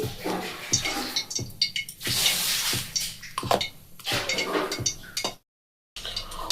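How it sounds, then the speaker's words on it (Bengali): Water poured bit by bit into a thick pakora batter for cauliflower and cabbage fritters, a close, steady splashing and stirring with brief breaks and a short silent gap near the end. "অল্প করে জল দিয়ে দিয়ে একটা ঘন ব্যাটার তৈরি করে নেবে"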